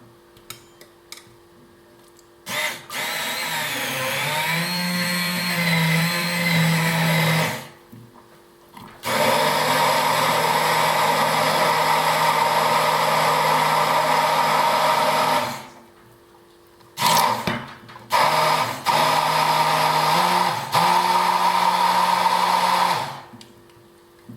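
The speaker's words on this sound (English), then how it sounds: "For this I will just use a hand blender, but it can be any blender that you have at home." A hand blender whirs through oatmeal crêpe batter in long bursts, its motor pitch shifting as it works, with short pauses and a few brief stop-start pulses near the end.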